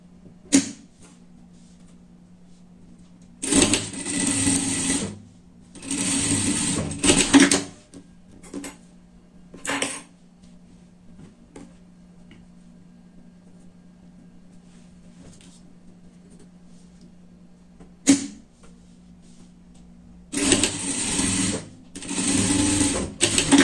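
Sewing machine stitching the shoulder seams of a pet fox costume, running in several short loud bursts separated by pauses with a low motor hum between them, no talking.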